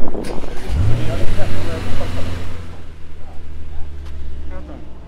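A car engine at the Jyllandsringen race track, a deep loud engine growl with a rising then steady low tone, heard up close while people talk over it.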